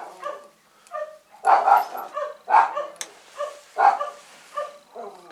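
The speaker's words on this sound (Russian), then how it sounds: "Как всегда, вовремя собаки гавкают." Several dogs bark in a series of loud, close yips and barks, in bursts spread across a few seconds with short gaps between them, and no speech over them.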